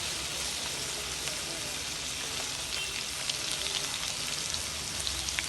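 Whole cumin seeds and bay leaf sizzle in hot oil for a Bengali fish jhol, a steady dense frying hiss with small crackling pops, close and loud, continuous throughout.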